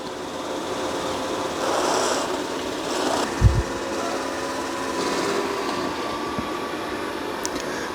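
Dreame X40 robot vacuum and mop running at close range: a steady, fairly quiet motor whir with soft brush swishing, a brief bump or knock partway through, and no talking.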